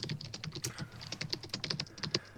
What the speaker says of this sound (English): I hear typing.